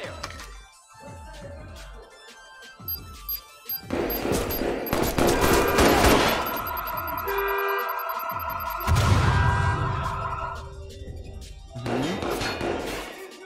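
Video game gunfire in Watch Dogs 2, with dense bursts of rapid shots and heavy fusillades rolling loudly through most of the stretch, punctuated by crashes amid continuous game noise.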